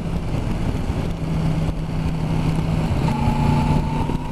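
A Yamaha MT-10 motorcycle being ridden, its engine holding a steady drone under heavy wind rush, with a higher engine tone rising toward the end as the bike pulls on.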